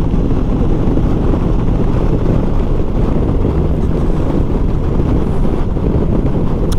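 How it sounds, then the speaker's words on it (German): Heavy wind buffets the microphone in a constant low roar, loud and unbroken throughout, with a faint hum beneath. "Es ist mega windig"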